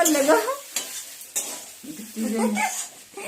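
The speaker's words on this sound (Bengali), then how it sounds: "রান্না করতে ভাত ভাজা" Rice stirred and scraped around a sizzling pan, with irregular clinks of a utensil against metal and short bursts of crackling.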